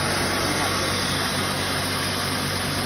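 A rice milling machine running on a replacement motor, grinding rice and turning out fine bran, gives a loud, steady, unbroken mechanical drone with dense broadband roar and low rumble throughout.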